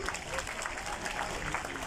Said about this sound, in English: a good round of applause for the God of Techno India, Professor Gauta